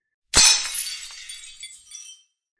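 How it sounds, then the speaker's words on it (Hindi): An old clock falls from a wall in a haunted mansion and lands with one loud, sudden crash of shattering glass, followed by about two seconds of tinkling, scattering debris that fades out, with no voices. "दीवार से एक पुरानी घड़ी गिर गई"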